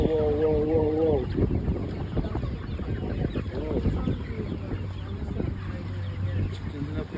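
Chickens on a farm in Micoud, St. Lucia cluck and squawk in irregular bursts close by, with people talking over them throughout.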